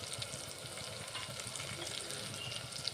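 Ground spices such as chili, cumin, coriander and turmeric powders with garam masala, kasuri methi and salt fry in a pan, giving a steady, close, crackling sizzle with no talking.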